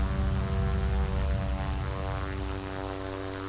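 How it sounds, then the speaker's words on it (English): Pilatus PC-6 taking off in Flight Simulator X, a steady loud propeller drone with strong low engine harmonics that hold through the whole stretch and ease off slightly toward the end. "Now watch this take off. We're not going to use very much of this runway."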